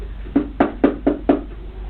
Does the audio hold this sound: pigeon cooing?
no